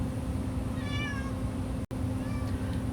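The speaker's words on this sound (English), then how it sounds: "Sorry, that's my cat." A pet cat gives a short meow, then a fainter second one a moment later, fairly close in a quiet indoor room with a low background hum and no talking.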